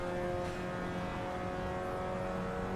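A Mazda MX-5 engine drones at steady high revs in the racing games Assetto Corsa, iRacing and rFactor 2, a continuous close-up whine with no talk.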